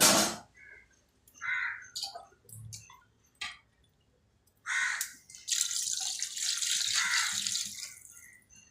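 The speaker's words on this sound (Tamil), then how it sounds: "நம்மளுக்கு தேவையான அளவு தண்ணி ஊற்றிக்கலாம்." Water is poured into a pot of chicken curry for a dum biryani, its curry pieces already fried in oil; the splashing pour comes in short bursts, then a longer steady stream near the end, with no talk.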